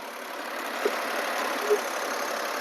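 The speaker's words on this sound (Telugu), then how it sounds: "ఇంజన్ బీటింగ్ కూడా చాలా బాగుంది." A second-hand car in good condition, with a clean engine bay and no oil leaks, idles steadily at close range with a smooth, even hum and no voices.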